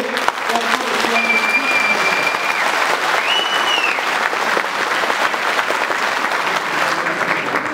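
Sustained, dense applause from an audience at an AK Parti district organization event in Tosya introducing council member candidates, steady and loud across the whole stretch, with faint tonal whistles rising briefly above the clapping.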